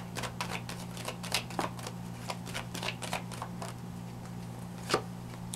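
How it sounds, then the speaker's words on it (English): Tarot cards being shuffled by hand, a quick run of soft riffling flicks and taps at close range, faint and alone over a steady low hum. "Let's pull one more card."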